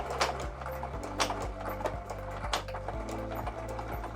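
A sewing machine stitches back and forth over a bulky loop on a roller-skate zipper pouch, running with a steady mechanical hum and a regular thumping needle rhythm, close and continuous.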